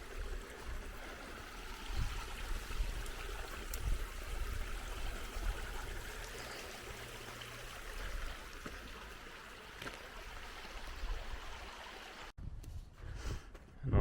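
Water trickles and gurgles steadily through a mountain peat bog on a north-facing slope, a continuous wet rush close by with faint squelching underfoot, ending in a few louder rustles.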